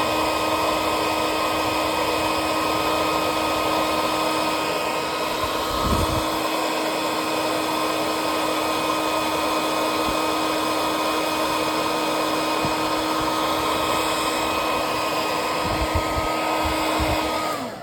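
A heat tool warms lavender candle wax with a continuous loud, steady blowing whir, close and unbroken throughout with no talking.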